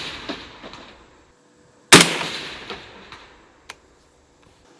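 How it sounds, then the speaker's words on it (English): A .308 rifle fired from a JAKL with a 12.5-inch barrel at a 3 MOA steel plate: one sharp, loud report that decays over about a second, followed by a faint distant tick of the impact. "We're shooting at a 3 MOA plate, which is about 3 inches across."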